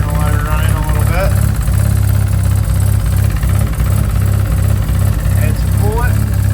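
Mazda RX8 drift car's 13B bridge-port rotary engine idling just after being brought back to life, a loud, choppy, lumpy low rumble with steady vibration, close by, as someone speaks intermittently over it.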